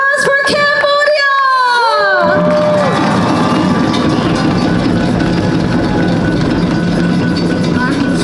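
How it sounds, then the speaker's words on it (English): During the Parade of Nations at a Lunar New Year opening ceremony, high whooping shouts give way to a loud, continuous roar of crowd cheering and clapping as the Cambodian delegation appears. "Let's give them another round of applause for Cambodia!"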